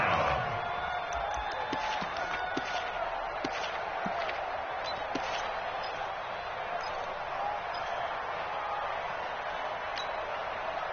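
Steady crowd cheering and murmuring fills a stadium during an American football video game, a constant bed of noise holding through a big third-down moment, with faint commentary voices beneath.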